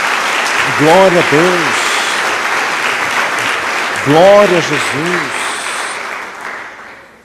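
A church congregation claps in praise to Jesus, a broad wash of applause running throughout while voices shout out over it and a couple of chanted calls rise above the clapping.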